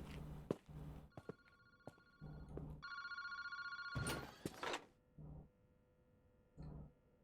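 An old-style telephone bell rings in repeated bursts with pauses between them, mid-loud over a low hum, in a payphone booth at Kinjibori Park in the video game Paranormasight.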